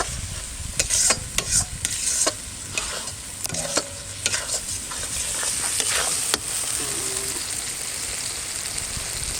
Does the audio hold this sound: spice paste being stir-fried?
yes